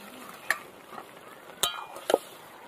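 Young cabbage cooks with pakal fish in a pan under a soft, low sizzle, broken by three distinct spoon clinks and scrapes as it is stirred.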